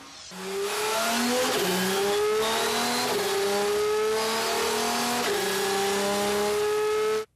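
A 2006 Audi R10 TDI Le Mans race car with a turbocharged diesel V12 roars loudly and close, pitch climbing through several gear changes in sustained acceleration before cutting off abruptly.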